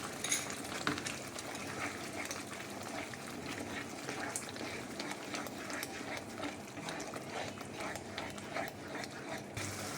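Spices and milk cream sizzle and fry together in a pan for a chicken and capsicum dish, a steady, faint crackling hiss with small scattered pops throughout.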